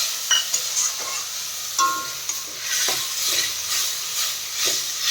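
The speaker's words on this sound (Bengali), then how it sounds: "মশলার যে জলটা দিয়ে ভালো করে মশলাটাকে আমরা কষিয়ে নিচ্ছি" Spice paste for a rohu fish and chana dal dish being fried down with splashes of water, hissing and sputtering loudly up close while a spoon scrapes and stirs in irregular strokes, no talking.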